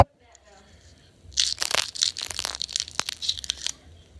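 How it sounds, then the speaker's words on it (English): A fortune cookie is snapped open by hand: after a quiet start, a cluster of sharp, dry crunching and crackling snaps follows for a couple of seconds, close and fairly loud. "Now let's crack it open for the grand reveal."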